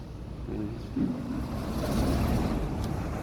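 Steady wind rushes and buffets across a rooftop terrace, a constant broad whoosh with a low rumble, no voices.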